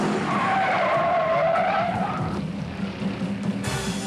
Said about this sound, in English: spun that Dodge all the way around, but he keeps it out of trouble and may head for the pits for new rubber.